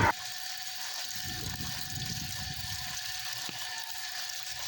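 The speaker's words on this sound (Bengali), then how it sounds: "পুঁটি মাছগুলো আমার মা ভালো মতো পরিষ্কার করে ধুয়ে নিচ্ছে" Small puti fish are washed clean with water, a steady close rush and gurgle of running water with soft sloshing underneath.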